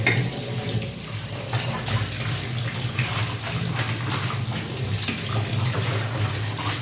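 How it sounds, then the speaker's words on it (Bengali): Drumstick flowers are rinsed under a running kitchen tap, with a steady splashing stream of water and small clatters of handling, close and continuous. "চলো এটাকে ধুয়ে পরিষ্কার করে নিই জল ঝরিয়ে ধুয়ে পরিষ্কার করে নেবো"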